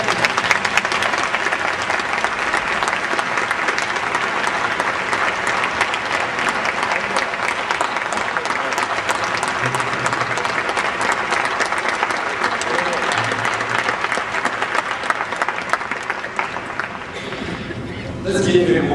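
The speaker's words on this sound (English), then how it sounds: "Let's give him one more round of applause." A NAACP Freedom Fund dinner audience applauding, sustained loud clapping filling the room for the whole stretch and easing off at the very end.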